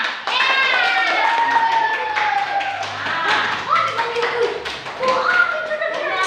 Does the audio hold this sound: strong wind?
no